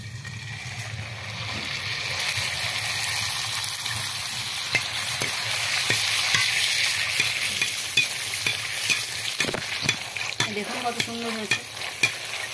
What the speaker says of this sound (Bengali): গরম হয়ে গেছে, এবার ফুচকাগুলো ভেজে নেব।